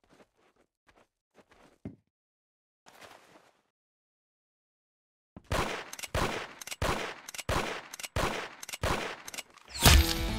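Gunfire in a shooting video game, a rapid run of loud, sharp shots in close bursts after a few seconds of quiet with faint scattered clicks and footsteps.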